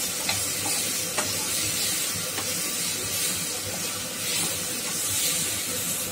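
Samosa filling with amchur powder and garam masala is stirred in a hot pan over low heat, a continuous close sizzle and hiss with occasional faint scrapes of the spoon.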